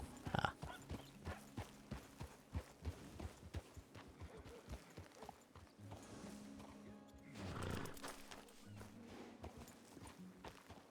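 Horse hooves clip-clop in a video game, a steady run of distinct rhythmic hoofbeats at a walking pace, moderately close and faint, with game ambience and a brief louder rustle midway.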